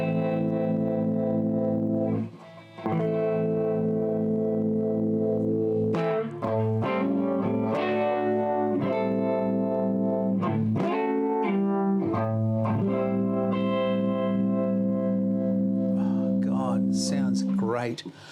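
An electric guitar played through a 1962 brown-panel Fender Pro valve amp with the tremolo slowed gives ringing, pulsing chords and single notes in a loud, continuous stretch with a brief gap early on.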